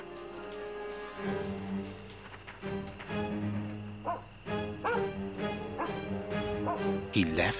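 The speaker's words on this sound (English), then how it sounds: "Good dog, Toby." A dog in a Sherlock Holmes video game barks and yips in short bursts, then whimpers with rising, whining cries. Close and lively throughout.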